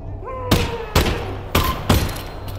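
Four sharp gunshots in the VR game Half-Life: Alyx, fired at uneven intervals, each a loud crack with a short decaying tail over a low background hum.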